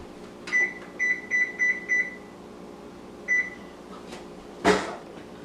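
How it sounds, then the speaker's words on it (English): An oven control panel beeps as it is set to preheat to 375 degrees Fahrenheit for blueberry muffins: five short, evenly spaced electronic beeps, a pause, one more beep, then a brief thump close by. "we're going to start by preheating our oven to 375 degrees Fahrenheit"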